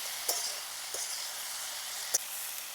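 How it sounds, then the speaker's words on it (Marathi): Drumstick pods being stir-fried with salt in a hot pan, a soft continuous sizzle broken by a few sharp clicks of a spatula against the pan. "त्याला मिठामध्ये चांगलं परतून घ्यायचं आहे।"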